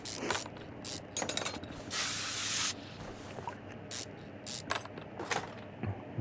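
Rusty bolts on a car's upper control arm being undone in Car Mechanic Simulator 2021, with rapid ratcheting and mechanical clicks, sharp hissing spray bursts and a sustained hiss in the middle, close and fairly loud.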